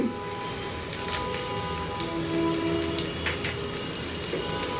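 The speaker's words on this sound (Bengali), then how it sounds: "ওর মধ্যে 4 কোয়া রসুন কুচি কুচি করে রাখছি, ওটা দিয়ে একটু ভেজে নিব" Chopped garlic frying over high heat in hot mustard oil in a wok, giving a steady, dense sizzle and crackle like heavy rain that runs evenly throughout.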